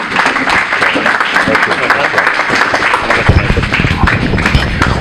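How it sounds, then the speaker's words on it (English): A forum audience at a 33rd Ward committeeman candidate event gives a round of applause for both candidates, loud continuous clapping with crowd murmur and voices mixed in throughout. "We have a round of applause for both our candidates."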